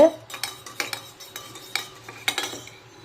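A spoon stirs an almond gum drink with a pinch of cumin powder in a glass or cup, giving a few distinct clinks and scrapes that come close and clear with no speech.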